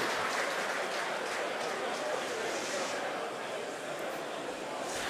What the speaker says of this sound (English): You may have heard the SpaceX team cheering in the background.